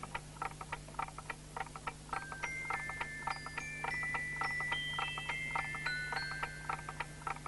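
A clock ticks steadily in a quiet room, its even, regular clicks carrying through with a low hum underneath and a few brief tonal chimes or beeps sounding midway.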